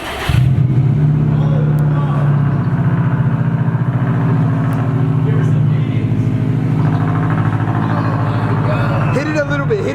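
A Subaru STI engine running with its exhaust removed, a loud, steady rumbling drone that holds through the whole stretch with slight revs, while voices talk over it.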